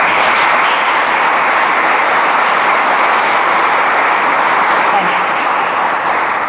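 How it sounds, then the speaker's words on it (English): An audience at an emergency services facility open house gives a sustained, dense round of applause, loud and steady throughout with no pauses. "Could I have a round of applause for them"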